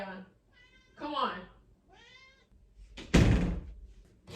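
A pet cat meows a few times indoors between stretches of quiet, its short calls near and clear, followed by a loud thump like a door knock or slam; a person speaks nearby.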